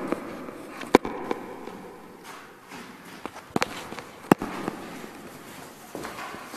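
New Year fireworks going off nearby, heard as a few sharp, isolated bangs spaced seconds apart over a low background rumble, with no talking.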